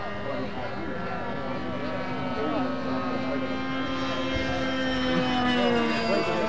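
Model airplane engine screaming at wide open throttle at a fun fly, a high, buzzing whine that holds steady and rises slightly in pitch, heard from a short distance with a voice in the background.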